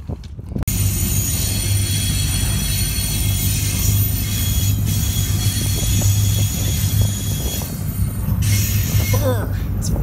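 A hot mail freight train passes close by with steady loud rumble, rolling wheel and rail noise and brief squeals, continuous for the whole stretch, recorded in cold weather on a rail journey.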